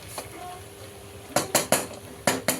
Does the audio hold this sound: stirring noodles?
yes